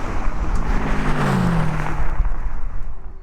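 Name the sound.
McLaren 720S, BMW M5 and GTR drag racing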